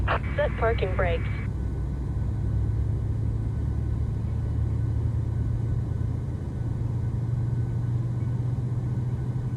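A Boeing 737-700 engine spools up in a flight simulator, a steady low rumble and hum from the turbine filling the cabin, preceded by a brief chirping alert at the start.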